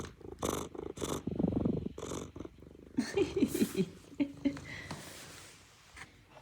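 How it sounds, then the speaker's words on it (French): A cat purring in a home, a steady low rumble heard in bursts close to the microphone, with a person talking warmly to the cats over it and some soft rustling. "Ça ronronne."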